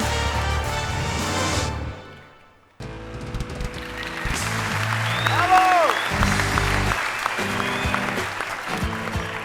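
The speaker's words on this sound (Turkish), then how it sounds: "Alkışlarınızla Oğuzhan ve Ali geliyor." Loud studio audience applause and cheering at The Voice Turkey singing competition fill the clip, dipping briefly to near silence before resuming strongly, with music-like tones and shouts mixed in.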